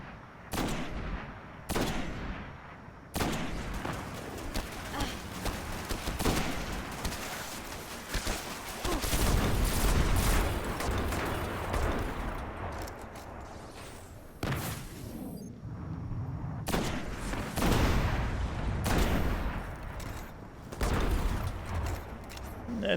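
Gunshots in the video game Destiny, repeated sharp bursts and single shots spread over a long stretch, some heavy and booming, loud against a busy game background with occasional speech.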